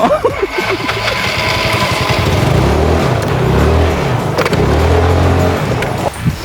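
A motorcycle engine starting and idling up close, with loud, rough, uneven revving that settles into a steady running drone.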